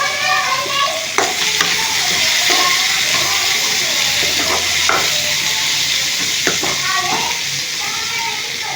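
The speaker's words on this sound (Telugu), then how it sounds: "తోటకూర వేసుకొని మంచిగా వేయించుకున్నాము." Amaranth leaves fry in a pan for an egg fry, giving a loud, close, continuous sizzle and hiss with occasional stirring scrapes and clicks of a utensil against the pan.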